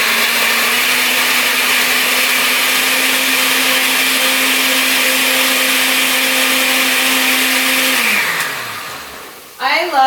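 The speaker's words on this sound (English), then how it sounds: "Blend it over here while that's cooking." A blender runs loud and close at a steady high whine as it purees tomatoes, then powers down with a falling pitch and stops, followed by a brief clatter.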